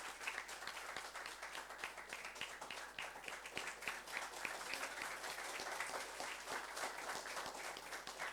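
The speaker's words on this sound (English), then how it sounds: "Let us give them a well-deserved round of applause for their valuable contribution to this hackathon." Sustained audience applause at a hackathon award ceremony, dense steady clapping from a crowd filling the room for several seconds without a break.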